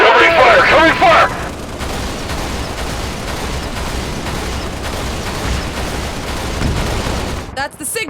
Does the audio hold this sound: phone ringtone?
no